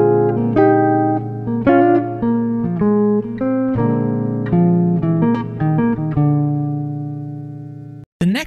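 A jazz guitar plays a blues lick, a clean single-note line of plucked notes and bends, close and clear, ending in a sustained note cut by a brief silence.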